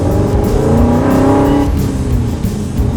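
A supercharged Superformance Ford GT40 accelerates hard from inside the cabin, its engine note climbing in pitch through a gear before a shift drops it back to a loud, steady roar.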